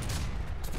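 Dense, continuous volley of gunfire from a group of musket-armed fighters in the Caribbean! pirate game, rapid overlapping shots filling the whole moment, loud and close with no talk.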